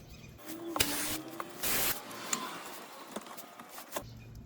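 A can of brake cleaner sprays in short and longer hissing bursts in a garage during an oil change, close and moderately loud, with quieter workshop noise between the blasts.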